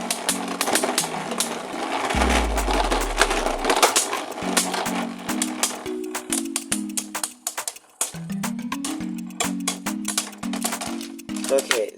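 Beyblade spinning tops, including an Odax Blitz, whir and clash in a stadium, a dense rattling buzz with rapid clicking impacts throughout, and a voice talks over it.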